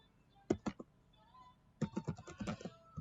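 Typing on a computer keyboard while writing an essay introduction, a short burst of a few keystrokes, a pause, then a quicker run of clicks, close and quiet.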